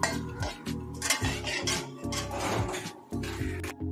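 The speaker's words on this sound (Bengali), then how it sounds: "কড়াইতে এখন গিয়ে একটুখানি এটা নাড়াচাড়া করার পরে কাজু কিশমিশটাও" Spatula scrapes and clinks against a kadai while whole garam masala spices and a bay leaf are stirred, the metallic scraping coming in close, repeated strokes with brief pauses and no talk.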